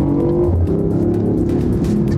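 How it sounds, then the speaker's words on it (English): A BMW i8 engine note, partly piped through the cabin speakers, rises and shifts pitch as the car accelerates, a loud, close, continuous drone with changing tones and no voices. "manufacturers have been working to tune the sound the car makes for years. We provide a little bit of sound through the speakers."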